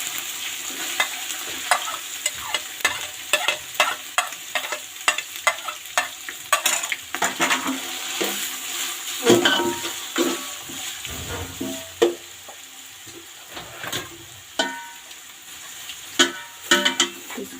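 Chicken pieces fry with ginger and garlic in a pan, crackling and sizzling under repeated scraping stirs, close and moderately loud with no talking.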